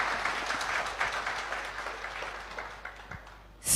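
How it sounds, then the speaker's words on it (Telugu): A motivational speech audience breaks into sustained applause, a dense steady wash of many hands clapping that gradually thins out, then a sudden loud burst at the end. "ఒక్కసారి గట్టిగా చప్పట్లు"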